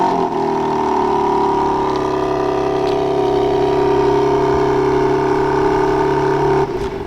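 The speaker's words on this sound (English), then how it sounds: "just triple tap the lock button and it will fire up" A 2024 BMW M3 Competition, fired by remote start, runs at a steady, loud idle with a smooth engine drone throughout, then cuts off abruptly near the end.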